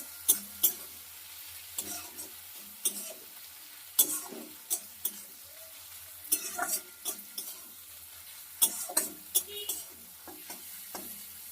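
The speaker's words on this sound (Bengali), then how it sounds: "জিরে লঙ্কাটা ভাজা ভাজা করা হয়ে গেছে" Cumin and chili frying in a pan for an egg curry, with soft sizzling and repeated sharp scrapes and clinks of a spatula stirring at irregular intervals, quiet overall and without talk.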